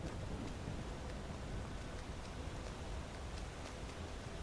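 Steady, even rain noise in a modded Skyrim world, a soft continuous wash with faint low rumbling and no speech.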